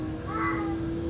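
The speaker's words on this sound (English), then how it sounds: "That's the cat." A pet cat meows once, a short mid-pitched call rising over a steady engine hum from a racing game running in the same room.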